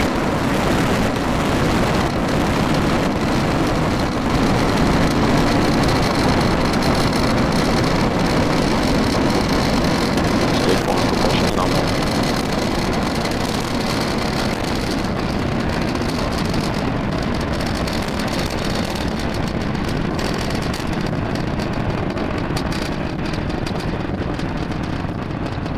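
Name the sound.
SpaceX Falcon 9 rocket launch roar, Starlink mission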